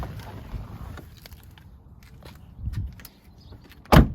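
The door of a 2021 Jeep Wrangler Unlimited Rubicon slams shut on a hot day, one sharp, loud thud near the end after some quiet shuffling and handling noises.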